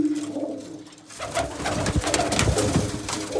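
Pigeons coo in a loft, with soft low coos near the start and then a busier, louder stretch of overlapping throaty calls and rustling close by, and no talking.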